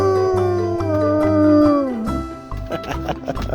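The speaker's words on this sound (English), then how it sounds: "Do it again. Do it again. Do it again. Do it. Do it. Do it. Do it, Jax. Do it. Do it. You crazy dog" A dog lets out a long, drawn-out howl that slides downward and trails off, close and fairly loud, followed by a few shorter sounds and faint background noise; no one speaks over it.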